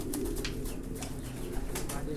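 Highflyer pigeons coo softly in a low, repeated murmur beneath faint background noise at a breeding setup, close by and continuous.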